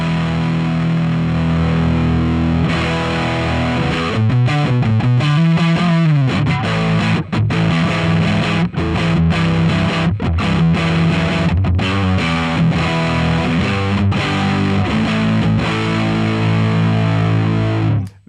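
A 4-knob fuzz distortion model on electric guitar, run through a Fractal or Helix modeler, played loud and continuous with thick saturated chords, a bending passage and choppy stabs, no voices.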